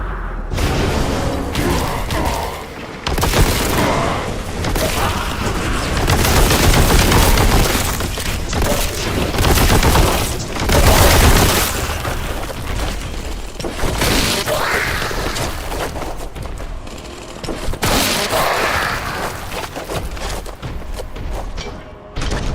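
Bolter gunfire and explosions from the Warhammer shooter Boltgun pound almost without a break, loud and dense, with booming blasts and crashing impacts layered over rapid fire.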